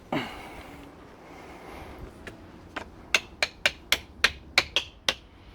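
Pieces being tapped into a homemade knife, chisel and axe sharpener with a hammer to tighten it, about eight sharp, crisp taps in a quick, fairly regular series, close and clear over a quiet background.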